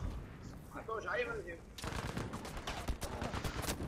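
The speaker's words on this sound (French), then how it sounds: "je suis en train de me battre à la mitraillette papa" Automatic machine-gun fire in Battlefield V Firestorm, dense rapid bursts from about halfway through, preceded by a quieter stretch with a voice, and continuing loud and sustained to the end.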